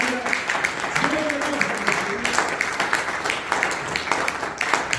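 Clapping from a congregation during a French-language church worship service, brisk and continuous, mixed with voices and some background sound, moderately loud and close.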